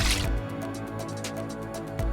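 Plate being rinsed in sea water, with wet splashing and dripping sloshes over steady background noise, close by.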